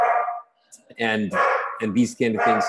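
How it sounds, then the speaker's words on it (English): A dog barks in the background in short, repeated yapping bursts, fairly near, mixed in with a person talking over it. "You can hear the dog barking in the background?"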